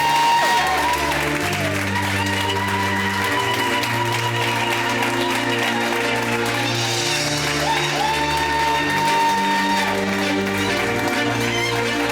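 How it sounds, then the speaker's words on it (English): Sustained applause and scattered cheering from a gala audience honoring South African road running legend Blanche Moila at a gsport Hall of Fame induction, steady clapping under a looping musical backing, loud and continuous throughout. "Another round of applause."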